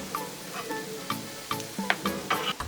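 Corn tortillas sizzle on a Blackstone griddle, with a steady frying hiss broken by sharp metallic spatula scrapes and taps as they are flipped.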